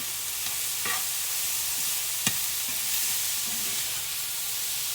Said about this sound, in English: I'm going to go ahead now and add my ground beef in.